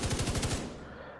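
Automatic weapon fire in the video game The Division 2 during a PvP match: a rapid burst of about eight close, loud shots, then a fading reverberant tail.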